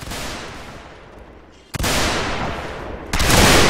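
Gunfire in the video game Mount & Blade North and South: dense, sustained rattling volleys that drop off briefly, then resume louder and heavier, with no talk.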